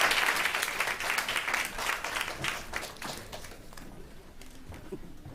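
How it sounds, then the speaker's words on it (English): Conference audience applauding, dense sustained clapping that fills the room and slowly thins out and fades toward the end, with no talking over it. "Give them a round of applause."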